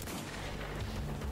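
A single heavy gunshot boom in a brutal first-person shooter game, dense and rumbling, with a low-end roar filling the whole moment and no speech.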